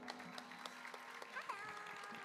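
An audience claps at a cultural stage event, a dense patter of applause held at a moderate distance and faint level, with some voices and tones mixed in.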